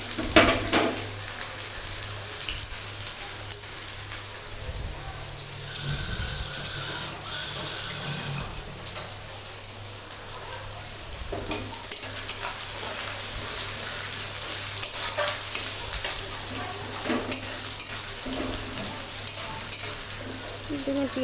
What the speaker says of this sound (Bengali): পেঁয়াজ কুচিটা এবার লাল করে ভেজে নেব।